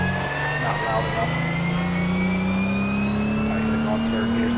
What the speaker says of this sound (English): I don't even know how much you can hear with the engine noise.